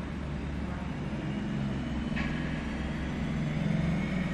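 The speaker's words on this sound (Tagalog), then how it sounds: "that is the sounds of motorcycle outside because our house is besides of national highway" Motorcycles pass along a national highway beside a house, a steady low engine rumble and road noise droning throughout, with one brief whining pass standing out midway.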